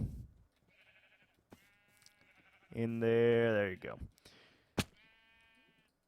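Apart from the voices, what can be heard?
sheep bleating in the video game Minecraft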